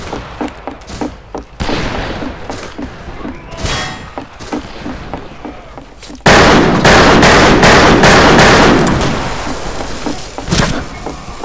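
Smith Carbine fire in the Western shooter Fistful of Frags, with a fast run of sharp, loud reports and echoing cracks. The volley thickens into dense, overlapping gunfire midway, then thins back to scattered shots.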